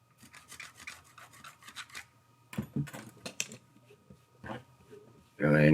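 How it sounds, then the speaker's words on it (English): Old light seal foam is scraped out of a Nikon F2 camera body, making soft, close scratchy rasping strokes in short bursts, with a louder handling noise at the end. "these light seals come apart very easily. And they just scrape on out."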